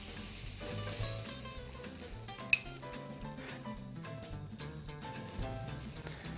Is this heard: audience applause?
no